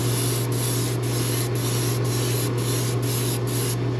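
An aerosol can sprays aluminum medium onto a fishing lure in a steady continuous hiss, close and loud, with brief regular breaks about every half second, and no talking.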